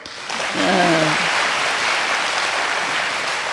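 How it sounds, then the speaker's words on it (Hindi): Clapping from an audience in a spiritual class, a dense, even patter of many hands that rises quickly and holds steady, with a brief voice near the start. "कितने भाग्यवान हो, ताली तो बजाओ।"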